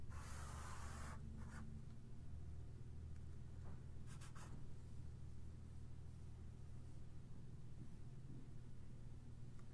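A pen scratches across paper while drawing, soft intermittent rubbing strokes close by over a low steady background hum.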